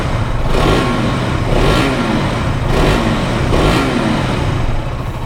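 A 2025 KTM RC 200 motorcycle engine revs in repeated throttle blips, four or five loud surges rising and falling over a steady idle, close by with no talk.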